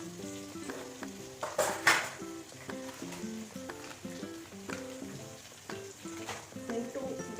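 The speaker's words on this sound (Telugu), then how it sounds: "నెక్స్ట్ ఇందులో ఆనియన్ వేసుకుంటాం" Onions fry in a hot pan with a soft, steady sizzle while being stirred, with occasional utensil scrapes over quiet background music.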